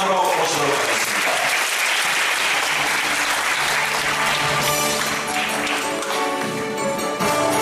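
Loud, sustained applause from a large audience at a parenting lecture event in Gumi, South Korea, steady clapping throughout with crowd noise, under a faint voice at times.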